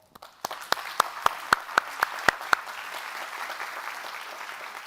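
Audience applause at a spring business conference welcoming two speakers, a sparse start building into steady clapping with a few sharp, louder claps standing out early on, then an even, sustained wash.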